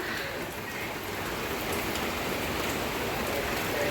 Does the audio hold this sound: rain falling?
yes